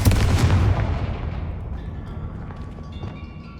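A booming Confringo fire-blast spell from Hogwarts Legacy erupts loudly at the start, then rolls off into a long rumbling decay with faint debris and ambient tones.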